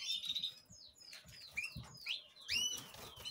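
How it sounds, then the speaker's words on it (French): Birds in an aviary being readied for breeding give a run of sharp chirps and squeaky calls, close and intermittent, with some soft rustling and fluttering between them. "on va faire un petit tour des oiseaux vite fait"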